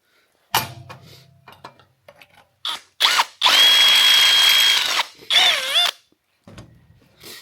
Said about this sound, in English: I'm using a step bit so that way it gradually becomes the right size.